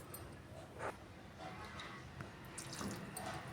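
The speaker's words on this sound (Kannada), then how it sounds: "ಸ್ವಲ್ಪ ನೀರು ಹಾಕಿ ಹಾಕೋರಿ." A little water trickles into a mixer jar holding chutney, a quiet, close run of light splashes and drips in a home kitchen.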